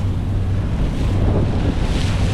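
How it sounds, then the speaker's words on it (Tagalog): Strong wind blows by the Pacific coast in Claver, Surigao del Norte, a loud, steady rush buffeting the microphone throughout. "malakas ang hangin. Kaya medyo maingay, malakas po ang hangin."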